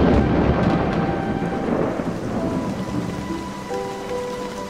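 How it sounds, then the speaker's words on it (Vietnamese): Heavy rain pours steadily on surfaces, with thunder rumbling low through the downpour during a sudden storm just before Tết; no one speaks over the constant roar. "Gần Tết mà mưa như thế này"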